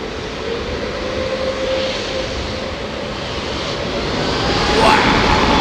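Airliner jet engines at London Heathrow Airport give a broad, steady roar that builds slightly near the end, with a sustained tone running through it.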